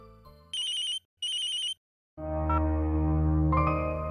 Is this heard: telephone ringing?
yes